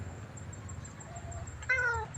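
A single short, high meow from a temple cat in Chae Hom, Lampang, on a rainy day, rises near the end over a quiet background hum.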